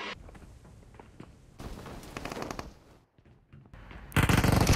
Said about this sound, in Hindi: फायरिंग बड़ी हो रही है